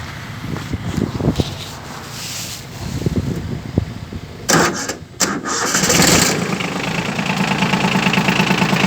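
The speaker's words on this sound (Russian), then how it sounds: "Трактор заводится легко, несмотря на то, что у нас сегодня мороз" A four-wheel-drive tractor engine cranks in frost with grinding, rasping turns, catches and settles into a steady loud rumble, close by with no voices.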